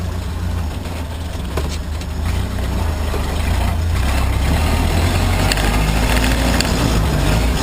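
A 1928 Model A Ford rolls across a rough grass field, its low engine rumble droning continuously and loudly, with bumps and rattles scattered over the steady throb.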